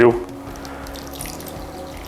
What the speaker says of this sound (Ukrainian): Додаю до фарша трішки звичайної сирої води, приблизно 100 мл